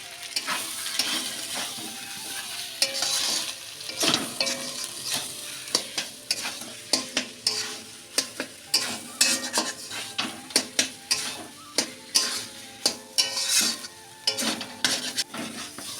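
Egg curry masala sautéing in oil while a utensil stirs and scrapes the pan, a steady low sizzle broken by many quick, sharp clicks and knocks of metal on the pot.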